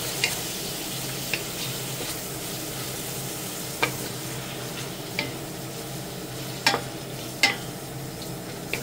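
Marinated pork sizzling steadily in a hot pan, a continuous crackling hiss with occasional sharp pops and light clicks of stirring.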